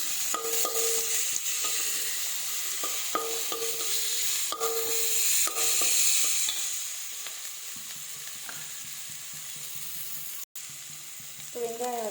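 Onions sautéing in a pan for a neimeen fish curry, a steady close sizzle with intermittent scraping stirs throughout, no talking.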